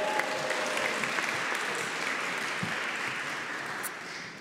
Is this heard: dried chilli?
no